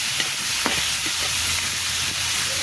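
Boiled cauliflower stalks fry in a pan, giving a close, steady hiss of sizzling with light stirring scrapes and small pops throughout.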